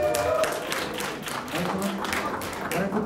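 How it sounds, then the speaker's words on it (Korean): An audience at a church-wide retreat gives a group of skit performers a round of applause, steady broadband clapping running for about three seconds with some voices mixed in. "2조에게 큰 박수 해주시기 바랍니다."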